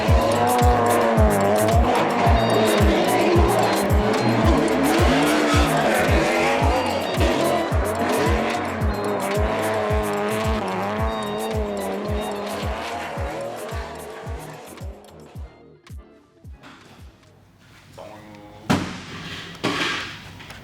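The Hoonicorn, Ken Block's all-wheel-drive race car, roars at full throttle with rapid rhythmic engine pulses and sustained tire squeal as it rotates, loud and close, before the engine drops away into bursts of crackle and thumps.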